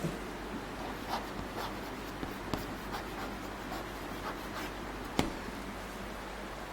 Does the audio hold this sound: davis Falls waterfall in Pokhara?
no